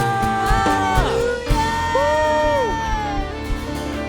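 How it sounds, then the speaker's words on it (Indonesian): A young church congregation at an online youth service cheers and shouts hallelujah together, a burst of overlapping voices and whoops rising loudly over music before settling. "Sorakan haleluya."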